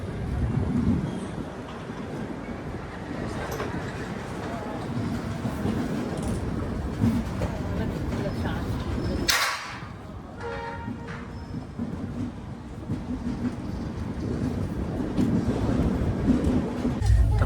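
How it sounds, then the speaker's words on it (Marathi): A passenger train pulls out of Lonavala station, a steady low rumble and rolling clatter heard from on board, with a brief sharp hiss midway and faint voices in the background. "तर आत्ता ट्रेन निघाले लोणावळा स्टेशनवरून."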